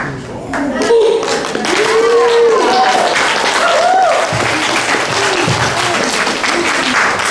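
Audience at a talent show applauding, with dense clapping and some cheering that carries on steadily for several seconds, while voices sound over the clapping.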